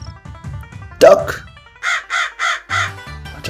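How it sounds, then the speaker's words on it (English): A cartoon crow caws four times in quick, evenly spaced succession in a PowerPoint turkey game, after a brief stretch of speech and a short sound effect. "Watch out for the crow."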